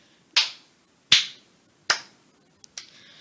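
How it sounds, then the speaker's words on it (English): Three slow, sharp hand claps come at even intervals, each crisp and quickly fading, followed by a couple of smaller, softer taps. "Limp claps for my drafting skills."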